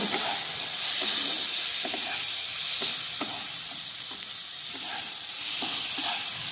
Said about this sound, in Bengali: পনিরটা এই মশলার সঙ্গে 1-2 বার নাড়বো।